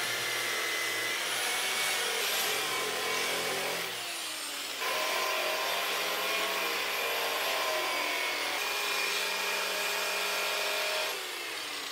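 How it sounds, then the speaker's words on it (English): VEVOR burnishing polisher machine working scrap metal gives a continuous loud, whining grind for the whole stretch, briefly easing around the four-second mark before resuming at full strength. "So the burnishing polisher machine from VEVOR is gonna be getting a lot of use."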